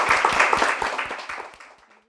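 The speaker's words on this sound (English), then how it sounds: "We just want to give another round of applause for yourselves and for our panelists." A room of attendees claps for panelists at the close of a Young Media Atlanta anniversary event, a brief, moderately loud burst of applause that thins and fades out within two seconds.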